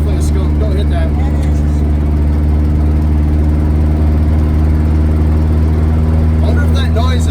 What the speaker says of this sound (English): I wonder if it's the exhaust making that kind of sound.